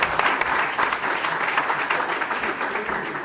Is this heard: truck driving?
no